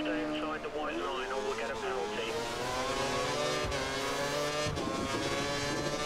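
A Caterham Formula 1 car pulls out of the pit lane in the racing game F1 2013, its high-pitched engine whining and rising through the gears, with a voice talking over the engine noise.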